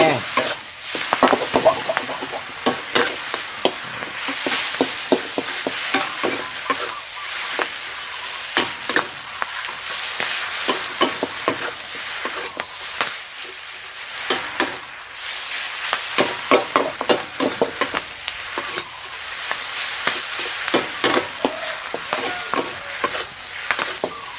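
Loud, continuous sizzling with rapid scraping and clattering of a utensil tossing pad see ew noodles with pork in a pan, in repeated bursts.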